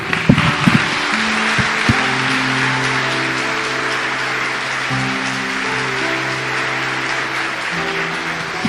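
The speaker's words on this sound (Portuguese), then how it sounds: "Pode aplaudir." An audience applauds steadily at a Holy Week sermon, a dense wash of clapping that starts with a few sharp claps and carries on evenly, loud and near, without speech.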